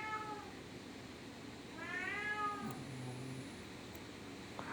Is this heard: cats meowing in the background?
yes